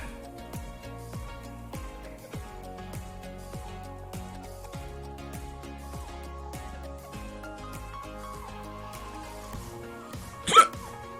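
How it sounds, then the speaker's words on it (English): A single sharp hiccup from a person painting a Blood Angel miniature during a live stream, near and brief, rising over steady background music late in the clip. "Hiccup."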